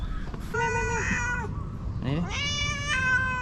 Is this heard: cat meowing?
yes